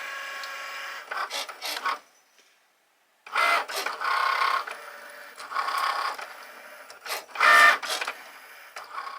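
A Cricut cutting machine makes a second cutting pass over sticker paper, giving bursts of buzzing, rasping motor and blade movement separated by short pauses and one brief silence.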